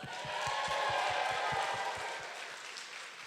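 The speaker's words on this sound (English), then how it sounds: "Please give them a round of applause." Guests at a catered celebration applaud the vendors in a quiet, distant wash of clapping, swelling then fading slightly, with a regular low thumping beat running underneath.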